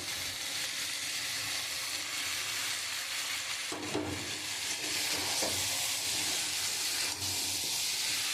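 Prawns fry in spice paste with tomato in a pan, a steady hissing sizzle throughout with occasional stirring scrapes and brief clatters, close and continuous with no talking.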